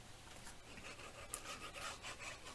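A fold in paper is burnished for a graduation mini album, heard as quiet, close rubbing strokes repeated in a quick scratchy rhythm.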